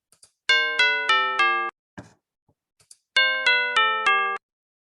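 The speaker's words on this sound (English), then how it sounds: "if I play a few notes on the two things, a little bit more like bell ringing" Bell-like notes are played on structures: a run of four clear ringing tones stepping downward, a brief scrape in the pause, then a second run of four matching tones, loud and close.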